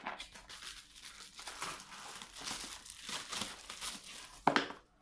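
Plastic packaging crinkling steadily as a parcel from a clothing haul is opened, close and continuous with a sharper tearing rustle near the end, no talking.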